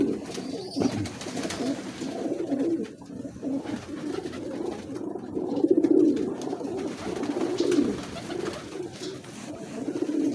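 Teddy breeder pigeons coo in low, continuous throaty rolls close by, with several birds overlapping in a steady murmur that swells and fades in waves.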